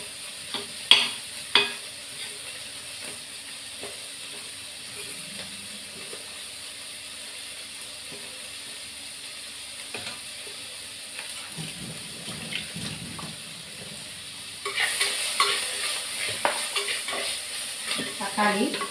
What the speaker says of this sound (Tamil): நல்லா வதக்கிப்போம்.